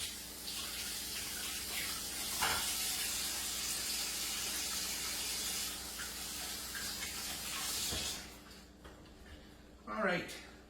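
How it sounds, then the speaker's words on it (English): Tap water runs steadily into a kitchen sink while hands are washed, a close, continuous splashing hiss that cuts off near the end, followed by a brief clatter. "I'm going to give my hands a quick wash."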